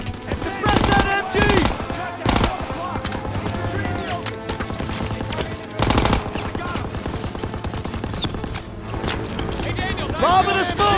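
Machine gun fire in Call of Duty: WWII on a World War II battlefield at Hill 493, loud rattling bursts recurring amid battle noise, with shouted voices over it.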